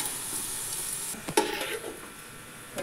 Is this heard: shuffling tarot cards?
no